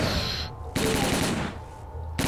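Automatic gunfire in a STALKER zombie survival video game, with loud rapid bursts of shots that cut off abruptly between them, close and dominant with no talking.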